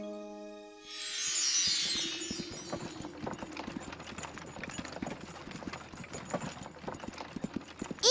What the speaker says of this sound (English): Stop, Pop Horse! Stop!